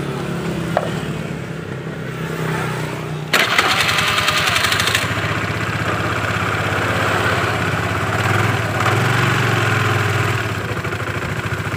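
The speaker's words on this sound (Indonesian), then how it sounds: "kalian bisa dengar ini mesin motor sudah nyala tapi roda belakang tidak bergerak sama sekali" A Honda Vario scooter's engine runs close by while its rear wheel stays still, a steady idle that jumps louder after about three seconds and then holds a constant, slightly uneven drone.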